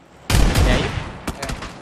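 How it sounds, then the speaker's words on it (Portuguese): Gunfire in the PUBG Battlegrounds video game: a sharp burst of two close shots followed by fainter echoing cracks. "Dei dois tiros nele, mano"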